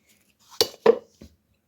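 A knife chops green chillies and garlic cloves on a board: three quick, sharp cuts close by, followed by silence.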